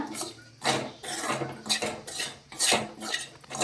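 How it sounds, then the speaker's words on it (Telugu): Jowar flour being stirred as it roasts in a pan over a low flame, making repeated scraping and clinking strokes of a spoon against the pan at a steady, unhurried rhythm, close by. "కింద మాడిపోకుండా ఇలా కలబెట్టుకుంటూ ఉండాలి ఇలా ఉంటలు లేకుండా"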